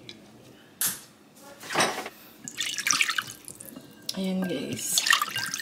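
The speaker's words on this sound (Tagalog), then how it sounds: "So, lagyan natin ng konting tubig." Water poured into a cooking pan as a dish is cooked, a short splash and trickle amid kitchen clatter and drips, with a person speaking briefly over it.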